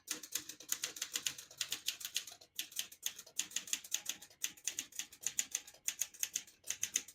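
Rapid, steady keystrokes on a 1965 Olivetti Lettera 32 portable typewriter, crisp close clacks in quick bursts with brief pauses, no voices.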